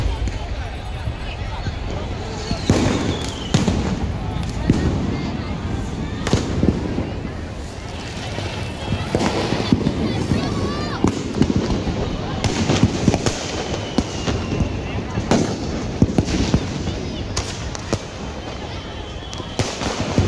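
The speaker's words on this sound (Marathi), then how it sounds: "शिवाजी मैदानावर भरपूर असे फटाके वाजले" Firecrackers and fireworks crackle and pop in rapid irregular bursts at the Shivaji Park Diwali festival in Dadar, over a constant crowd hubbub, some bangs sharp and close, others distant.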